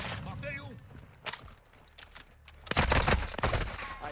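Bursts of video game gunfire in Call of Duty DMZ crack out in scattered shots, then a dense volley near the end, with excited talk running over much of it.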